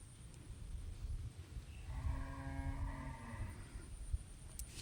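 A cow in a village gives a single drawn-out moo, fairly quiet and somewhat distant, over low rumbling background noise.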